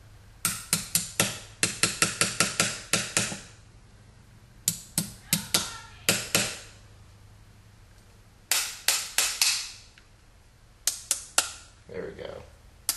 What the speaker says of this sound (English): Tap it in a little bit, pull on your trigger to align the pin.